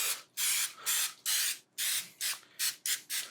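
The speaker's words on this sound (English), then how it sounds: "Just a light little spray." Cooking spray is sprayed into a muffin tin in about eight short hissing bursts of uneven length, close and fairly quiet, with brief pauses between them.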